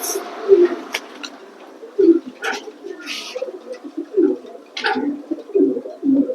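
Tiger pigeons at a bird sale give soft, low repeated coos, several separate bursts in fairly close succession, with a faint voice now and then in the background.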